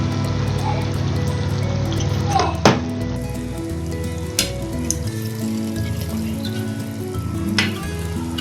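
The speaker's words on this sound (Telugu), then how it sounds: "కొన్ని చేపలు ఇలా పేర్చుకోవాలి, ఇలా ఆయిల్లో పేర్చుకోవాలి." Fish pieces fry in hot oil in a pan for a fish curry, giving a steady close sizzle with a few clinks and taps from handling.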